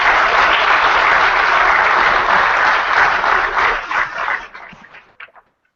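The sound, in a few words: applause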